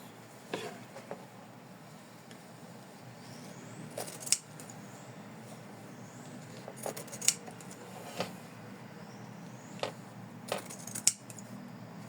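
Small scissors snip fabric seam allowance beside lace ruffles on an in-the-hoop heart ornament, making a series of light, crisp, close cuts spaced irregularly across a quiet room.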